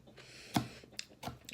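Crunchy chewing of a large vegan salad, a few distinct close bites and crunches spaced irregularly over soft mouth noises, with no talking.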